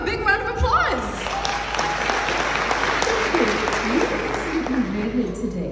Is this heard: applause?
yes